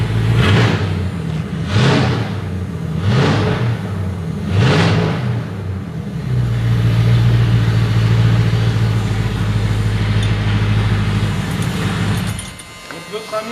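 A limousine fitted with a straight pipe exhaust gives several loud, sharp engine surges, then settles into a deep, steady rumbling idle that runs for several seconds before cutting off.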